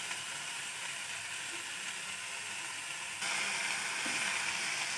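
Elephant apple pieces fry in oil with sugar, giving a soft, steady hiss that grows slightly louder partway through, with faint stirring scrapes.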